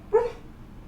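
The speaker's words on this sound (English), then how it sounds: "my dog's dreaming." A dog whimpers in its sleep while dreaming, one short high yelp close by, followed by quiet room tone.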